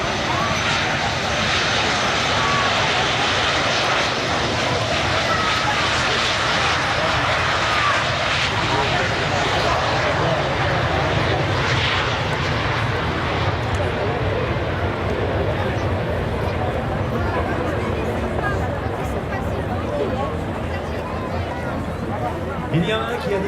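An aerobatic patrol jet takes off with a loud, sustained roar that fills the whole stretch, broad and steady, with a crowd murmuring faintly beneath it.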